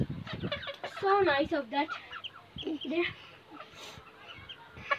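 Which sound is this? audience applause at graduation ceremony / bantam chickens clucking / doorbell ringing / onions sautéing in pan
bantam chickens clucking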